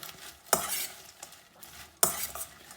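Salad leaves are stirred and tossed in a bowl with a creamy zucchini sauce, two sharp scraping swishes with quieter rustling between them, close and fairly soft.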